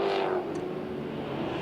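A Group A touring car at the 1985 Australian Touring Car Championship round at Amaroo Park sweeps past on track, its engine note loud at first and then easing into a steady, fading drone.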